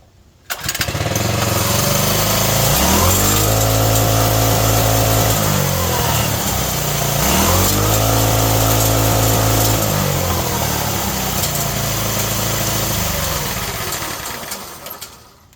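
A Bajaj CT100 motorcycle engine with its governor bypassed runs loud and steady close by, revving up and down in two broad swells before settling and fading near the end.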